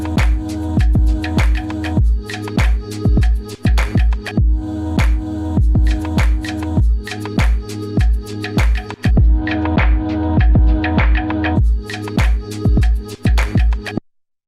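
Roland SP-404 MKII sampler plays a looping beat of envelope-shaped samples with a pumping, sidechain-like feel: steady punchy kicks and clipped hits under sustained tones, loud and continuous, cutting off abruptly at the end.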